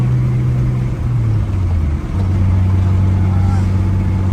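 A Nissan Skyline GTS turbo cruises with a steady, loud engine drone heard from inside the car, the pitch dipping and rising as it shifts and spools, with people talking over it.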